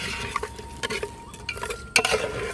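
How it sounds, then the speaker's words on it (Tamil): Fish being mixed by hand with chilli powder, turmeric and spices in a bowl, short wet squelching and rubbing strokes close by, with a sharper clatter near the end. "எல்லாத்தையும் போட்டு மிக்ஸ் பண்ணி விடுங்க"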